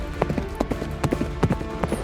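Cartoon horse hooves clip-clopping in a quick, uneven trotting rhythm, several hoofbeats close up, as a mythological chariot is drawn along in an animated story.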